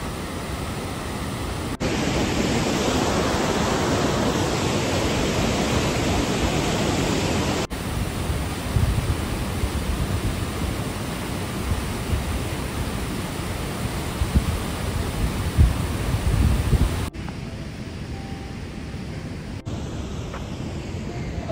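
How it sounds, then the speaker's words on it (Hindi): A fast, dangerous-flowing mountain river beside the Hamta Pass trek trail roars as a dense, steady broadband rush, loud and close, shifting slightly as the view moves, with no talk over it. "साइड में आप नदी, मैं आपको दिखाता हूँ आपको ना, एकदम खतरनाक फ्लो है."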